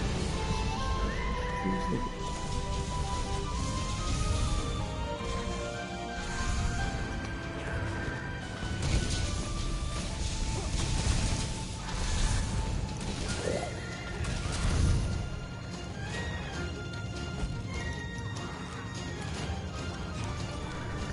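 Repeated horse neighs and whinnies with hoof clip-clops in a busy Monster Hunter World game soundscape, loud and close, recurring throughout.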